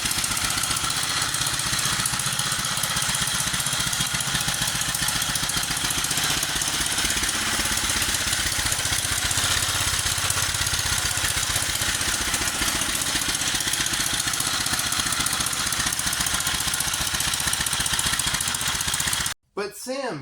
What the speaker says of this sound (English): I got it running a bit better now that it's idling